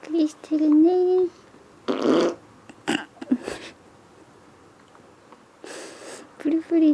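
A one-month-old newborn with hiccups passes gas in several loud, close, sputtering bursts between quiet gaps, with small baby vocal noises in between.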